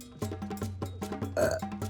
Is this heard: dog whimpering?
no